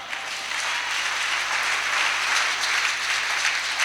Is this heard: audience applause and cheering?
yes